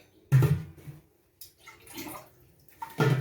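Water poured into beetroot juice in a kitchen, coming in a few separate splashing bursts with short pauses between them, close by and moderately loud.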